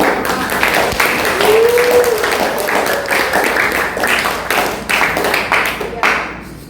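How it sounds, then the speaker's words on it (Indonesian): Audience in a high school classroom clapping together, a dense, steady patter of many hands close by that tapers off near the end, with a voice speaking over it. "Beri tepuk tangan."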